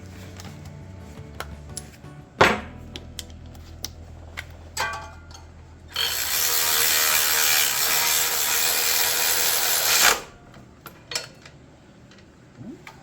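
A ratchet works on a bolt during a thermostat replacement on a 1993 Chevrolet S10 Blazer, giving sparse clicks and a sharp clank, followed by a few seconds of broad hissing noise and more scattered mechanical taps, with no voices.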